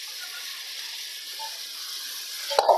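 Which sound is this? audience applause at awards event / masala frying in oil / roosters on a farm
masala frying in oil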